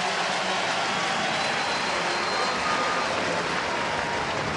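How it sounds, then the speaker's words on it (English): A baseball crowd at a stadium during a Washington at Cincinnati game in 2009 keeps up dense, loud, continuous applause and roar with no breaks. "let's give an applause to number 31"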